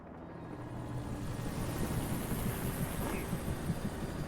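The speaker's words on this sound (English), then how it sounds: "They have a helicopter?" A steady low throbbing rotor drone fills the clip, a helicopter hovering nearby in the video game Alan Wake Remastered, with a continuous hum and no voices.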